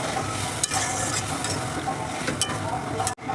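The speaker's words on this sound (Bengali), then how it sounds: "এখন আমি এর মধ্যে জল দিয়ে দেবো এই যে গরম জল বেশি দেবো না অল্প করে দেবো" Hot water poured into egg curry in a pan with potatoes, a bright hiss and sizzle as it hits the hot oil, with scraping stirs, steady and close, ending in a sudden cutoff.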